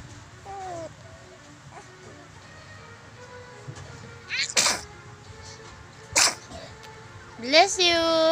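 A baby sneezes twice, short sharp bursts a couple of seconds apart, close by, in a home where an adult talks softly to the child and the baby fusses and vocalises at the end.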